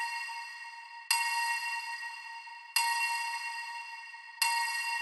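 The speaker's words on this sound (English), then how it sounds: "there's also this like offbeat bell thing" Three bright synthesized bell tones from a colour bass track strike at even intervals, each ringing out with a long, slowly decaying shimmer before the next hit.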